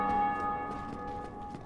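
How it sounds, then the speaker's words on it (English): A large church bell in the Dark Souls video game rings out with a sustained, shimmering metallic tone that slowly decays, heard alone and fairly close. "Big feckin' church bell."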